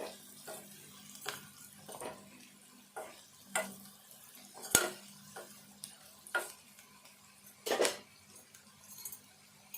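Ingredients fried in a pan along with bitter gourd pieces: faint, scattered spatula taps and scrapes over a low, quiet sizzle, with no one speaking.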